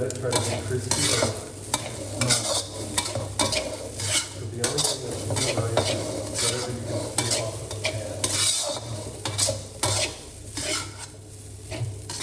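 Thai chicken fried rice with green onion tossed in a hot pan, with a steady sizzle under repeated close scraping and clattering strokes of a utensil against the metal for the whole stretch.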